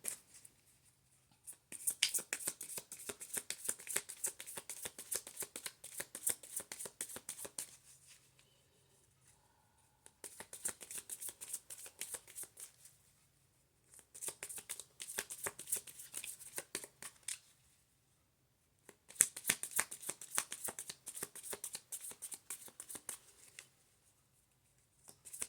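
Tarot cards being shuffled in four separate bursts of dense, crisp riffling, with short quiet pauses in between; close and fairly soft.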